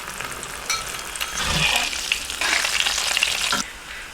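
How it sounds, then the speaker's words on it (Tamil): Chicken cheese balls deep-fry in oil over moderate heat, a close crackling sizzle with bubbling bursts and a stirring clink, stopping abruptly near the end. "எண்ணெயில மிதமான சூட்ல இந்த உருண்டையை பொரிச்சு எடுத்துக்கணும்."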